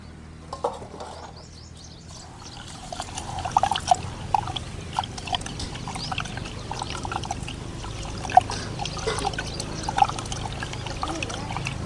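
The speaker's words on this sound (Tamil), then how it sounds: "தண்ணியில் கொட்டி" Rice is poured into water in a pot to wash it, giving a soft, continuous pouring and trickling with small splashes and clinks. Faint background chirps can be heard.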